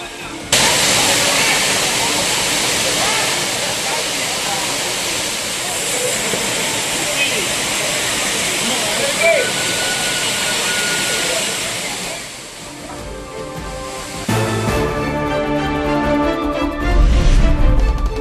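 The Courtallam waterfalls pour in a loud, steady roar of rushing water through most of the stretch. Near the end the roar drops back and a voice speaks over it.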